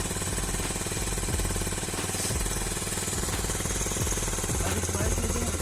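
A Loncin Pruss motorcycle engine runs in winter after a kick start, with a loud, steady, fast thumping idle and a rattly mechanical clatter throughout, heard close up.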